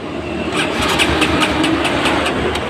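A Kawasaki KLX150 motorcycle engine, fitted with a newly replaced starter, runs close by at a steady idle, its low rumble continuous and fairly loud with regular ticking pulses throughout, no voices.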